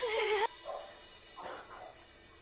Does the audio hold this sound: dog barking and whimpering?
yes